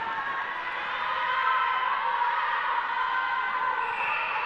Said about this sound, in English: The crowd's getting really excited behind this game.